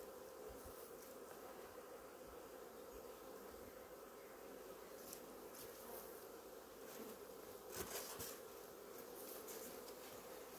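A honeybee swarm hums steadily inside a small hive box, a dense continuous buzz with no voices, brief louder flurries of wingbeats passing close now and then.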